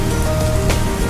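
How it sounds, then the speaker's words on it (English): Steady southwest monsoon rain showers pour down in a dense, continuous hiss across the whole moment, fairly loud and close with no voices. "The first showers of the southwest monsoon"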